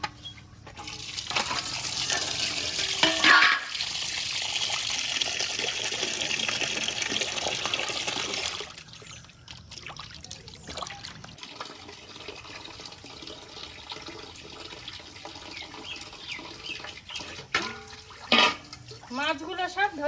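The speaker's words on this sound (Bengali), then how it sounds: "এবার মাছগুলো ধুয়ে নেব।" Fish being rinsed under a running kitchen tap, a steady loud gush of water for several seconds that then stops, followed by quieter clatter and handling noises.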